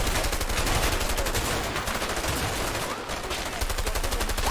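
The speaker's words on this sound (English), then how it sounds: "How are they shooting me?!" Dense, continuous gunfire from a firefight in the video game A Way Out, with rapid machine-gun bursts and shots overlapping steadily and loudly throughout.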